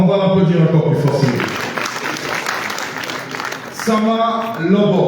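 An audience at a festival opening ceremony breaks into applause between stretches of amplified speech, with clapping swelling in the middle and talk resuming on either side.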